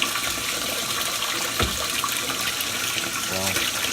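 Water gushes into the tub of a GE GTW680BSJWS washing machine during a hot-water tub clean cycle, a steady loud rushing fill with a brief splash and faint gurgles.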